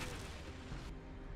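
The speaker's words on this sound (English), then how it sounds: "Those goblin heroes create those explosives. They shoot them to the ground and they just explode and do massive damage." Explosives hurled by goblin heroes in the Torchlight video game, detonating as a dense, rumbling roar of booms that sustains loudly before cutting off sharply, no voices over it.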